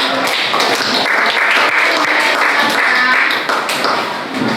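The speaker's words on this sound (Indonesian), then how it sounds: "tepuk tangan sekali lagi buat kelompok Candela" A class in a school setting applauding a student group, with steady, dense clapping from many hands filling the whole stretch at close range and fairly loud, with no clear talk over it.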